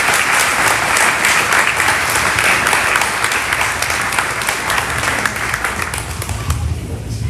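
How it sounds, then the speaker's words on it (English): An audience at a family eulogy service gives a loud, sustained round of applause, dense clapping that continues for about seven seconds and eases slightly toward the end. "help me give a round of applause"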